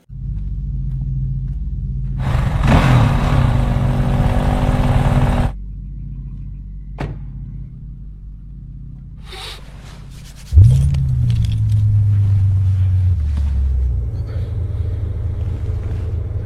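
A vehicle engine rumbling loud and low, cutting off abruptly, then after a quieter stretch with a few clicks a powerful engine surges in near and heavy, settling into a steady drone.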